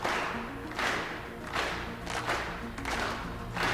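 Repeated bursts of clapping from a small group in a Riverdale scene, coming in uneven waves about every second with some low thuds underneath, moderately loud and steady throughout.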